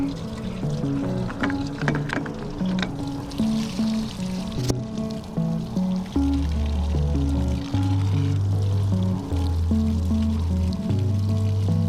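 Coolant drains from a 2005 Duramax, a continuous trickling and pouring splash with steady liquid flow into a container, close by, with some clanks early on and a low droning tone in the background.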